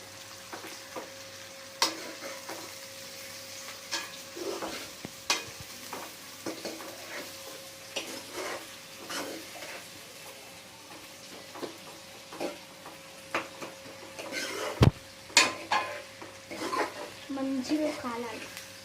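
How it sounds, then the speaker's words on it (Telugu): Tomato curry for bombdi chappa frying in a pan and stirred with a ladle, a soft continuous sizzle broken by scattered scrapes and knocks, one sharp clank near the end, with a voice heard at times. "ఇప్పుడు గరిటెతో కలిపేసుకోవాలి."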